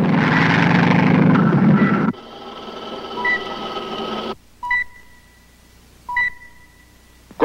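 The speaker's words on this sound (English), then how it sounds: "The light civilian plane coming in at 190 degrees appears to be in trouble." A light civilian plane on approach drones loudly for about two seconds. It then cuts to a quieter hum with a few sharp electronic beeps.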